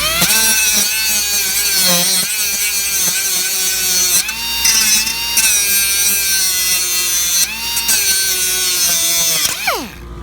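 A power tool zips bolts off while an air tank is mounted on a Peterbilt 359 truck under restoration: a loud, continuous whining drone with shifts in pitch and a few brief breaks.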